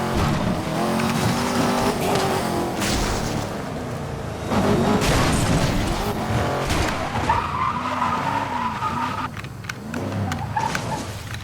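Nissan GT-R R34 racing in Need for Speed Most Wanted (2012), with a steady roaring engine, repeated loud tire squeals and skidding through corners, no talk.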